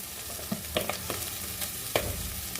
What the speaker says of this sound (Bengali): গ্যাস কমিয়ে এগুলোকে কষাচ্ছি